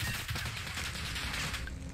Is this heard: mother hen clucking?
no